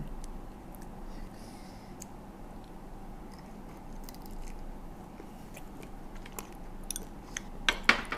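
Someone chews soy-sauce pickled shrimp up close, with soft, quiet mouth sounds building into several sharp, crunchy bites near the end.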